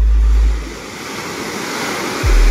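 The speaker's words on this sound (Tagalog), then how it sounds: "Medyo kumalma na ang dagat, oh." Sea waves wash onto the shore of a coastal fishing area on a calming sea, a soft continuous surf hiss with heavy low wind buffeting on the microphone at the start and end.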